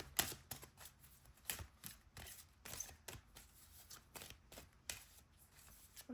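Tarot cards being shuffled by hand, a dry papery riffle and slap repeating in quick bursts, close and quiet, with no voices.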